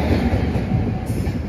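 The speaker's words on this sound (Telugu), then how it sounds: "శ్రీకాళహస్తి రైల్వే స్టేషన్ కి చేరుకుందనమాట" Tirumala Express 17487 train at Srikalahasti railway station, a loud steady rumble of rolling coaches with faint wheel clatter, close and continuous.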